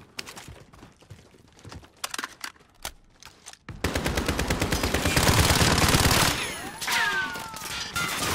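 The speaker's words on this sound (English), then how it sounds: "They're shooting from the upper windows." Gunfire from the video game Call of Duty: Modern Warfare. After a few scattered clicks and isolated shots, a loud, sustained burst of rapid automatic fire starts, continues steadily, and then gives way to further bursts mixed with ringing tones.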